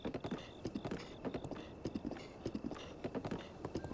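Horse hooves clip-clop at a steady walking pace in Zelda: Breath of the Wild, a quick regular rhythm of close, distinct hoof falls with no voices over them.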